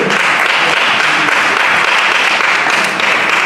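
Audience applause at a 2018 innovation fair, a dense, loud burst of many hands clapping that holds steady for a few seconds.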